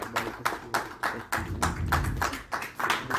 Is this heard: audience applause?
yes